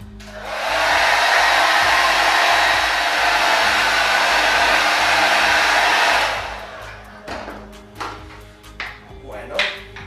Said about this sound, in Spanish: Entonces, para darle calor vamos a utilizar un secador.